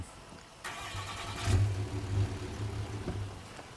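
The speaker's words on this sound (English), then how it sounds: "The military truck." A military truck engine in State of Decay 2 cranks over and catches, settling into a low, steady idle with a brief rise partway through, close and fairly quiet throughout.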